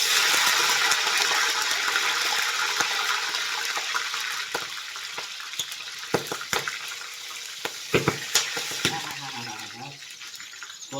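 A pinch of hing and green chillies sizzling in hot oil, a steady bright hiss with scattered sharp pops and crackles that grow more frequent toward the end.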